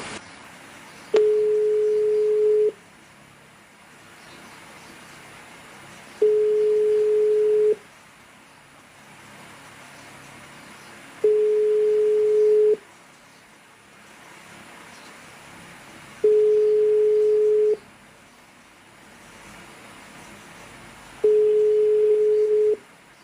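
Unanswered telephone line ringing on a French-language call, five evenly spaced steady ring tones, each about a second and a half long with longer pauses between, over a faint hiss, with no voice answering.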